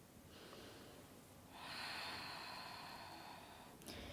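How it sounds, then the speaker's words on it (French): Slow, deep breathing during a yoga child's pose, a soft airy inhale followed by a longer, louder breathy exhale, close and quiet with no talking. "Prenez de grandes inspires, de longues expires"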